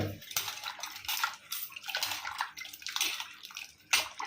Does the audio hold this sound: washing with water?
yes